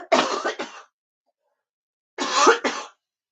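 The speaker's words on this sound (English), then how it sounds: "Oh, that's a cough, Mama. That's certainly a cough." Two loud, close coughing fits separated by a couple seconds of silence, each a quick run of rough barks.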